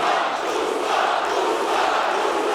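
A Dubai arena crowd at a PFL lightweight fight roars and chants steadily for Usman Nurmagomedov, a dense, loud wash of massed voices with no pauses throughout.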